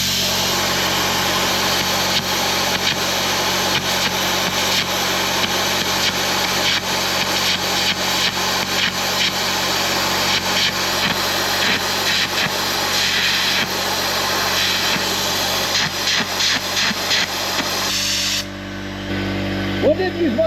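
Carbon arc gouging a weld with an HTP welder: a loud, steady, rough hissing roar with crackling sputters runs nearly twenty seconds before cutting off abruptly, then a quieter hum remains.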